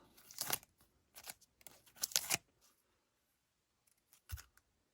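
Tape peels away from a car hood in several short, rasping tearing bursts, each lasting under a second, followed by a brief thud, all close and fairly quiet with no talking.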